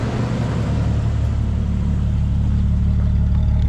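A Jeep Wrangler 4.0 engine runs steadily through an MBRP catback exhaust, producing a loud, continuous low rumble with a moderate, not overly aggressive tone and no speech.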